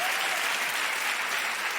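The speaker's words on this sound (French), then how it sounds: "On applaudit Maud, bien sûr." A comedy festival audience in Paris applauds for Maud, a thick, continuous crowd clapping that stays strong and even throughout.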